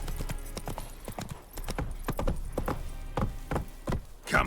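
Roach the horse's hooves clip-clop on the ground in the Witcher 3 video game, a quick uneven run of close hoofbeats ending with a short breathy snort.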